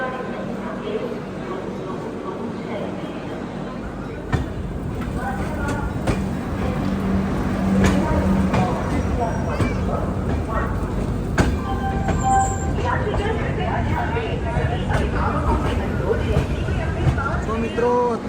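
Yoga Express train standing at Ghaziabad junction station, a steady low rumble of the train and platform bustle filling the scene, with a few knocks and clanks and people talking in the background.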